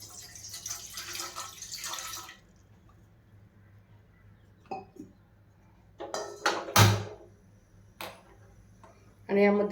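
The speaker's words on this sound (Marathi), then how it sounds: "त्यामध्ये पाणी टाकत आहे." Water is poured into a pot sitting on a gas stove while making besan ladoo, a brief splashing rush at the start followed by quiet, a few clicks and taps, and someone speaking.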